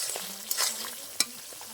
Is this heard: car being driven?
no